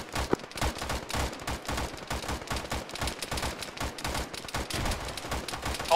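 Rapid bursts of gunfire and a blast crack through a chaotic firefight in ArmA, a military shooter played by ShackTac, with dense overlapping shots filling the full stretch under constant battlefield noise.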